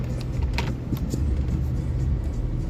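A Force vehicle drives along with a low, steady rumble of engine and road noise from inside, with a few faint rattles over the top.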